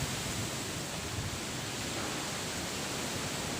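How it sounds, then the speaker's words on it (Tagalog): Strong typhoon wind roaring over Pangasinan, a dense, steady, loud rush of noise throughout with no pauses or voices. "Lakas ng hangin guys oh."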